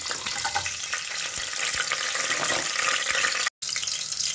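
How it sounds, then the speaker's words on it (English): Pimento, garlic and pepper sizzle in hot oil for a Jamaican coffee brown stew turkey neck, a steady, close, crackling hiss with faint stirring that cuts out for a moment near the end. "We're going to add some pimento, garlic, and pepper to the oil."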